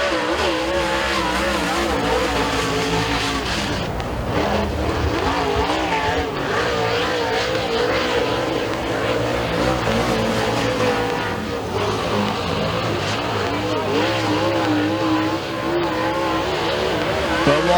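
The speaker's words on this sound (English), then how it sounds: "Here is going to be Bo Lockwood and Joe Lafredo taking the green." Super Late Model race cars qualifying at Thunder Mountain Speedway roar steadily throughout, engines droning loud and close with a few tire squeals, while an announcer talks over the noise.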